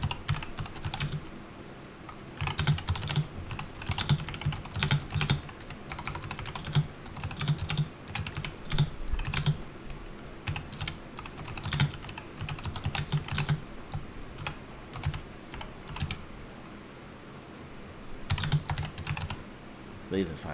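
Steady bursts of typing on a computer keyboard fill the whole stretch, rapid clattering keystrokes with brief pauses, close and fairly loud, no talking.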